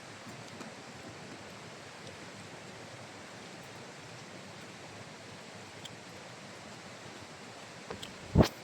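Steady soft wash of sea breeze and waves at Ketpeli beach, a faint even roar throughout, with a short louder bump near the end.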